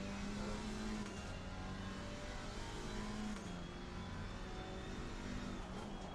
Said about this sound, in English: You can hear me get off the gas there, because I didn't want to take any chances once again.